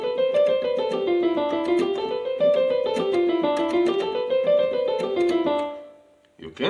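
Piano playing a mode scale up and down in a steady stream of notes, repeated several times, ending with a brief pause and a new note.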